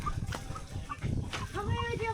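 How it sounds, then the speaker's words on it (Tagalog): Chickens cluck and murmur at a rural spot, a steady close-range jumble of fowl calls with a rooster among them, voices sounding now and then alongside. "Dami manok dito ah."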